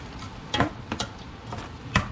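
Tomato chutney simmers on medium heat with a pinch of salt, giving a soft, low bubbling and faint sizzle, with a few sharper stirring or utensil knocks heard close by and no talking.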